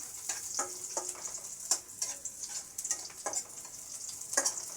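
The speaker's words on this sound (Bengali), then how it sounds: "সর্ষের তেল দিয়েছি পেঁয়াজটা ভেজে নিচ্ছি" Onion frying in mustard oil crackles and sizzles close up, with irregular bursts of spatter and occasional stirring scrapes, steady throughout.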